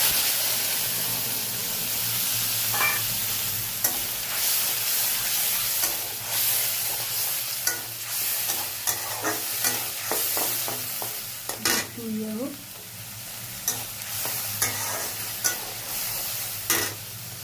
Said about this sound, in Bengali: এবার এই যে মশলাটা পেস্ট করে রেখেছি, টমেটো, আদা, কাঁচা লঙ্কা, এটা দেব